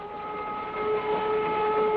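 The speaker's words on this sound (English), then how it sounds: "Slowly, the truck pulled ahead of the speeding train." A speeding train in a Hoppity Hooper cartoon makes a steady, muffled droning roar with sustained whistle-like tones. The sound builds slightly louder over the stretch and plays alone, with no speech.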